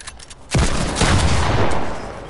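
Video game gunfire starts with a loud, sudden blast, then a dense, sustained burst of rapid shots and rumble that slowly fades, preceded by a few quieter clicks.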